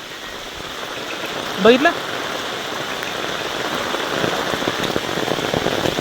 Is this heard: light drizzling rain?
yes